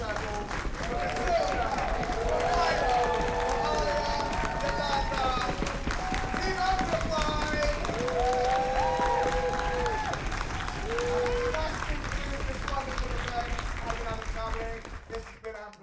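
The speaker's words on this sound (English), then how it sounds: "One more round of applause." A festival audience at a Brighton Festival 2021 performance applauds and cheers in a sustained wash of clapping, with voices rising above the crowd noise.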